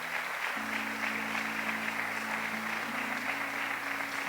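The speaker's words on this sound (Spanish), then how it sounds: "Dale un fuerte aplauso a Cristo." Church congregation applauding at a Vino Nuevo service in San Martín, Argentina, a steady wash of clapping throughout, with sustained musical tones underneath, moderately loud and continuous.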